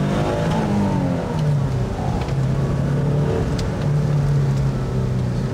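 A Porsche 944 Turbo engine pulls at full throttle, a loud continuous drone with rising harmonic sweeps as it climbs through the revs, heard from inside the car without talking.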